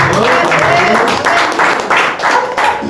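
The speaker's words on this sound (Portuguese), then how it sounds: "Vamos dar uma salva de palmas" A church congregation gives a round of applause: loud, close clapping swells in pulsing bursts, mixed with voices and possible singing.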